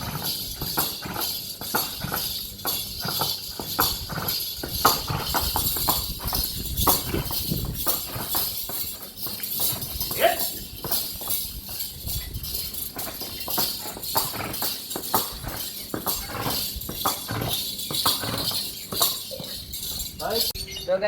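A decorated mare walks on hard ground, her hooves giving a steady run of clip-clops with faint jingling, under a noisy, hissy background.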